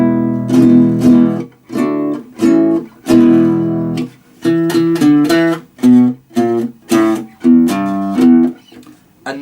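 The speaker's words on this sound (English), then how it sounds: "What a nylon string guitar sounds like." A nylon string acoustic guitar plays short strummed chords and plucked notes alone, with soft attacks and brief gaps between phrases.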